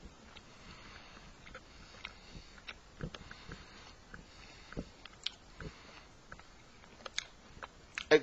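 Someone eats a Sainsbury's apple turnover pastry over a tray, producing quiet, scattered crunchy bites and soft chewing sounds with occasional louder crackles, close to the listener and with no talking.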